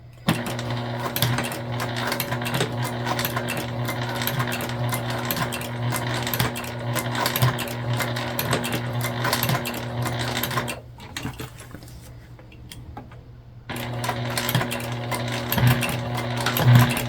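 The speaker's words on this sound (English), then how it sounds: "we're just doing that by backstitching and ensuring that our needle is in the down position" A sewing machine backstitching the bottom corners of a sling bag with the needle in the down position: steady close mechanical whirring and rapid stitching, a brief quieter pause, then stitching resumes.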